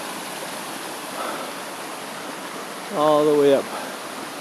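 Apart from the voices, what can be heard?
creek water flowing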